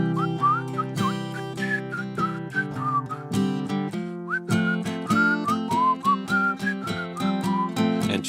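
A person whistles a bright, wavering tune over a live band with steady guitar and rhythm, the whistled melody carrying clearly and continuously above the music at an agnostic church concert celebration.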